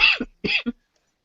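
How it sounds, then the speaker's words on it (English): Two short, harsh coughs close to the microphone, each with a throaty catch, followed by silence. "I'm sorry for all the coughing."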